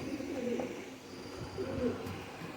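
Rampuri pigeons coo in low, soft, repeated murmurs, with two rounded bursts at moderate distance over a steady, faint background hum.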